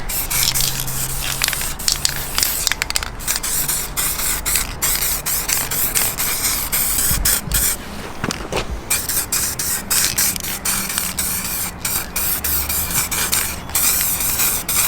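A spray gun applies lacquer to refinished car alloy parts, producing a continuous close hiss with slight fluctuations and faint clicks that runs throughout.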